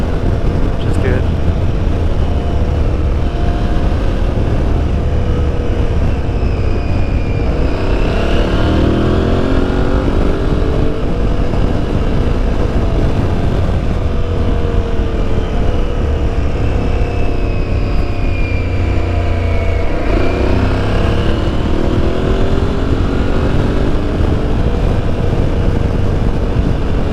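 An Aprilia Tuareg 660 motorcycle is ridden with a loud, continuous engine drone and heavy wind rush, its pitch rising and falling through gear changes around two accelerations.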